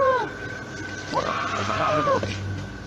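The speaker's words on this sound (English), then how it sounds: "You can hear a woman scream." A woman's distant, strained scream caught on a recording, one short cry followed by a longer wavering wail, faint and muffled against background noise.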